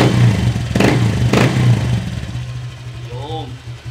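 A motorcycle fitted with an MT8 silent killer exhaust pipe revs in two quick sharp blips over a low idle rumble, then settles back to a steady idle while someone talks over it.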